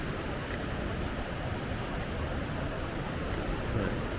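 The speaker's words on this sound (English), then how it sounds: "Oh, big wave coming in." Ocean surf rolls onto the Big Island shore of Hawaii in a steady, close wash of roaring water, with a big wave coming in and no voices over it.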